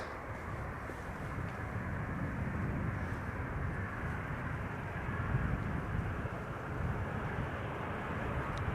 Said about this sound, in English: I like the machine, the A350.